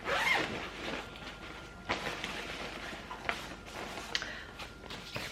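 A zipper is drawn open on a fabric storage organizer pouch with a mesh front, giving a close, scratchy run of pulls and small clicks and thumps as it opens, with no voices.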